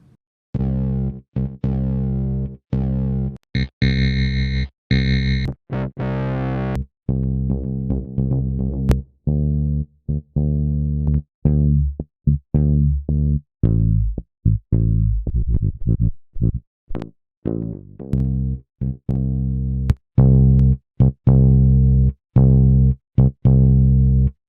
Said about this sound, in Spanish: este último preset me ha gustado bastante, cómo agregó un poco más de presencia y de distorsión al bajo